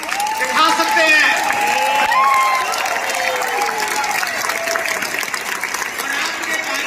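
Audience at a 23rd anniversary event claps loudly and continuously, a full crowd applause with cheering voices and chatter over it, slowly tapering but sustained throughout.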